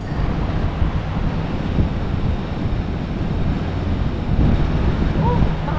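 Strong wind buffets the microphone outdoors on a street in Tel Aviv, Israel, making a steady loud roar and rumble that swells near the end.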